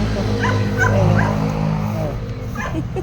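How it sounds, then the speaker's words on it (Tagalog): A guard dog at a gate yips and whimpers in short, close bursts over a low steady hum, with a person talking nearby. "bantay talaga sa gate itong aso ito"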